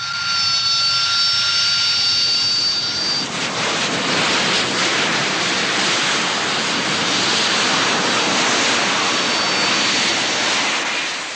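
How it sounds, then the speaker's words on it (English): Harrier jump jets land at a woodland hide site, a loud, steady jet roar filling the air after a brief high whine at the start, with no pauses. "8 Harriers land and are camouflaged in only 12 minutes"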